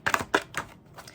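Oversized tarot cards being shuffled by hand, heard as a few quiet, papery flicks and slaps in short uneven bursts, close by and soft.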